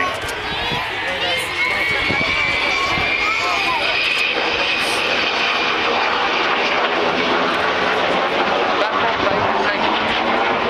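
Avro Vulcan XH558 jet bomber with four Bristol Olympus 101 engines flying a display at Dunsfold, a loud continuous roar with a sweeping whine as it passes, under commentary over a public address.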